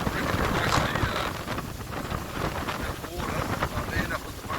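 Strong wind in an open field at Ocean Grove buffets the microphone in a steady, heavy roar that never lets up, with gusty rumbling throughout and a voice faintly underneath.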